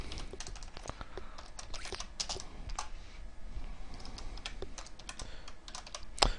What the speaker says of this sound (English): in case you're wondering about my sloppy typing